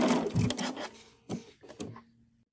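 A sewing machine stitches patchwork pieces together in short bursts, a close mechanical whirring that starts and stops three times before falling quiet.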